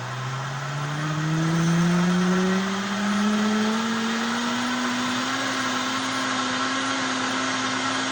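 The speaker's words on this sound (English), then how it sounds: "Vitamixes are real good machines" Vitamix blender whirring at high speed while blending broccoli soup, a loud, continuous motor drone whose pitch slowly climbs as the mixture smooths out, with no voices over it.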